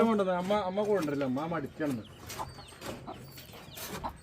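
Chickens in a coop cluck and squawk close by, a drawn-out vocal call at first, then scattered short clucks and rustling.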